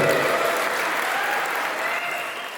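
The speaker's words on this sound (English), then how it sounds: "A nice round of applause, everybody, for the father of our beautiful" Wedding guests at Rosewood Farms in Elkton, Maryland, applaud the bride's father, a dense, even wash of many hands clapping at once, sustained and fairly loud across the short stretch with no voices standing out.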